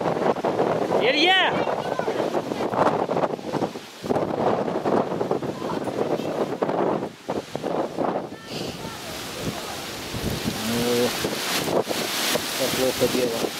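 Strong storm wind blasting and buffeting outdoors during a storm that breaks trees, loud and gusty, with someone shouting a name over it and occasional rattling and knocks.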